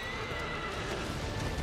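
Horse in the video game Shadow of the Colossus neighing with clip-clopping hooves, a short close burst standing alone.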